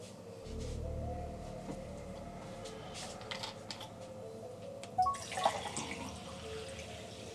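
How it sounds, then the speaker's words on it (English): A tap runs to fill a drinking glass, a faint, fairly distant trickle of water with small clinks and drips near the end, no voices present. "I'm just going to grab myself a drink of water"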